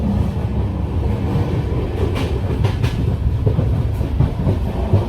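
An AC two-tier sleeper carriage of the Hazrat Nizamuddin Express rumbles and clatters steadily along the rails, a loud continuous rolling noise with faint rhythmic clicks.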